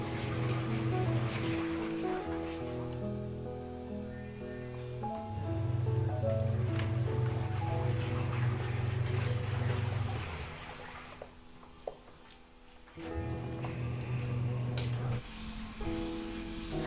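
Washing machine churning and spinning a load of clothes indoors, a low steady motor drone with sloshing, tumbling swishes that stop around midway and then resume.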